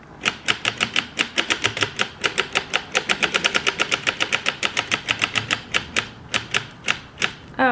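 A circular sock knitting machine is cranked by hand, producing a rapid, even train of sharp mechanical clicks and clacks close up, with a faint hum underneath and no talking.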